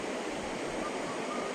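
Water rushing down between forested hills, a steady broadband wash of running stream or small waterfall, close and continuous with no pauses.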